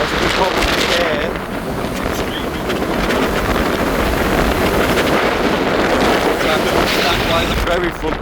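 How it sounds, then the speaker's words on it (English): Strong wind blasts across the front of a DFDS ferry between Newcastle and Amsterdam, a loud, steady roar of gusts and microphone buffeting over sea and engine rumble, with a voice talking underneath. "you'd have this strong wind directly in your face"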